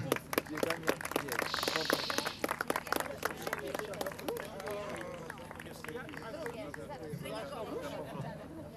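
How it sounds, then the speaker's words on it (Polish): Spectators applaud a runner who finished a 100 km race. Scattered clapping rises early, then gives way as a speaker talks over the crowd's chatter at moderate distance. "Wielkie brawa dla Romana!"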